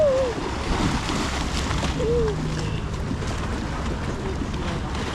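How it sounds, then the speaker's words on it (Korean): Waves wash against the waterfront in Venice in a steady, windy roar close to the microphone, with brief exclamations from people nearby. "오 파도 친다."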